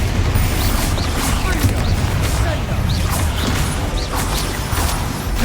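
Spell blasts from the video game Hogwarts Legacy thud and crackle in quick succession, dense booms and bursts layered over game sound with voices calling out amid the action.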